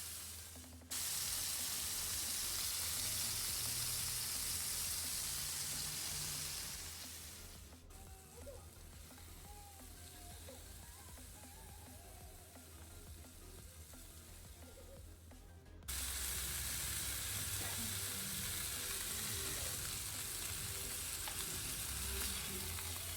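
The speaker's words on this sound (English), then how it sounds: "Flip your chicken and fry on the other side as well" Chicken breast frying in oil in a pan, a loud, steady sizzle and hiss that drops quieter for a stretch in the middle and then surges back, heard up close with no voices.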